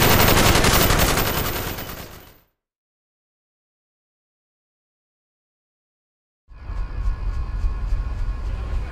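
Covering fire in Call of Duty Black Ops: a loud, dense automatic burst that fades out after a couple of seconds, then dead silence, then a steadier, fainter rumble with faint ringing tones.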